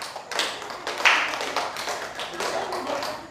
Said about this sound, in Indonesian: Saya rasa tepuk tangannya tidak kompak ya